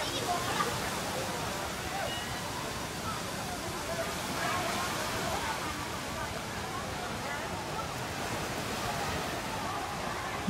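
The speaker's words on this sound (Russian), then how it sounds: "Здесь в разное время разную волну делают. Сейчас маленькая волна," Steady rushing and splashing of small waves in a water park wave pool at Siam Park City, Bangkok, a constant broadband wash with faint background voices from people nearby.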